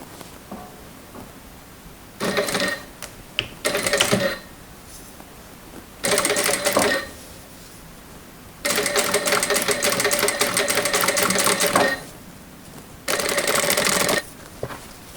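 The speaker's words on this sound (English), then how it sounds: "Now I will be sewing 1 millimeter from that folded edge." A sewing machine stitches a linen dress seam in several distinct bursts of rapid whirring, separated by short pauses.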